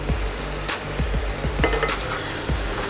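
A pan of capsicum curry with garam masala and coriander-cumin powder is stirred, giving repeated metal spoon scrapes and clinks against the pan over a soft sizzle.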